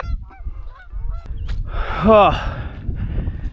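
Geese honking as a flock flares away during an early season goose hunt in North Dakota, a burst of loud overlapping honks peaking midway over outdoor background noise.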